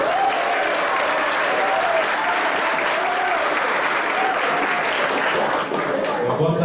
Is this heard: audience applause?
yes